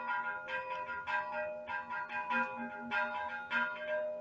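A bell struck repeatedly in a steady rhythmic pattern, evenly spaced ringing strikes with a lingering tone, moderately faint and without talk.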